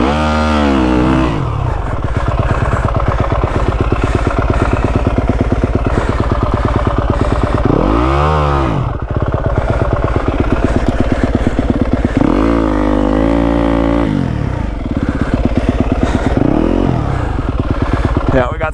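A Yamaha WR250F dirt bike engine drones loudly and close up while riding through snow, with repeated rising and falling revs as the throttle is blipped. The engine runs throughout with no pauses.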